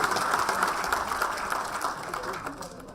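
An audience in a hall at a book launch applauds to welcome a guest, a moderate spread of clapping that fades near the end while voices talk over it.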